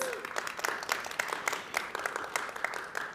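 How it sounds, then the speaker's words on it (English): Audience applause welcoming the moderator at a panel event on lasting peace and social justice, a steady wash of many hands clapping with a few distinct sharp claps standing out, moderately loud throughout. "So a round of applause, please."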